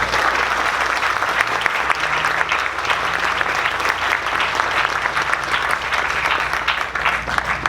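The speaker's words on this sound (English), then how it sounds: "I think everyone owes Sue a round of applause." A crowd applauds steadily and loudly at a ribbon cutting ceremony, a dense unbroken wash of many hands clapping for the full stretch with no voices standing out.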